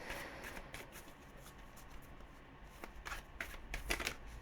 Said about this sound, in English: I'm just going to quickly shuffle this deck 3 times.